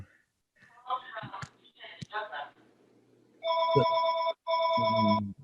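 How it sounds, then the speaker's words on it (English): A telephone rings loudly in two long electronic bursts near the end, after a stretch of speech in an online meeting. "The phone ringing, Linda maybe."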